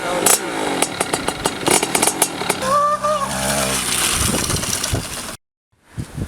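A motorized bike engine buzzes and revs near the listener on a dirt trail, with rough, uneven bursts and a steady drone before cutting off abruptly near the end.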